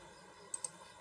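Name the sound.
computer mouse clicking in GraphPad Prism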